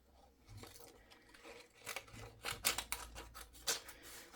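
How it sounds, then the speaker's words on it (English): Scissors cutting paper for homemade Christmas gift bags, with several short snipping cuts that build to sharp, close clips, quiet overall and without speech. "Now with this one, I'm going to cut it again."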